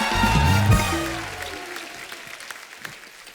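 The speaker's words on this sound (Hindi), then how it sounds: "जोरदार तालियां।" Audience applause on a comedy talk show stage breaks out under loud music and voices, then fades into scattered clapping and low chatter.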